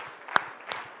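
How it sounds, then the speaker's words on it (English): At a conference audience, crowd claps land in unison as short, crisp beats, with two distinct claps over a faint room murmur. "If you can hear my voice, clap 3 times."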